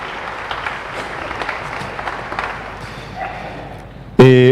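A church congregation at Sunday Mass during Lent applauds people born on February 29, a steady mid-level patter of clapping that ends in a sudden loud tonal sound.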